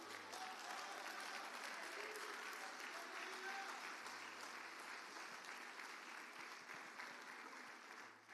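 Church congregation applauding during a worship service, a faint, steady wash of clapping that continues throughout with little variation in level.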